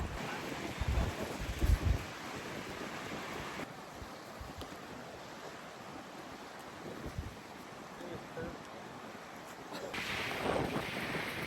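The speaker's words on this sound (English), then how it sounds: "This wind is blowing me away." Strong wind blows outdoors beside a bus, roaring and buffeting steadily against the microphone with gusts rising near the start and end.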